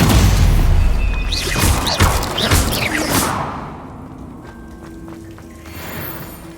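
A Stupefy spell cast in the Hogwarts Legacy video game lands as a loud booming whoosh with crashing impacts, then fades into quieter game ambience.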